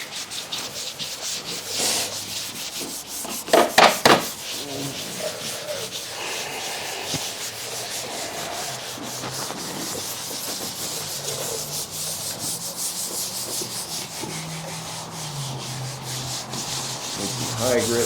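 Steady hand sanding of a 1987 Mazda RX7 body panel with a sanding block, continuous close scratchy rubbing strokes with a brief louder knock early on.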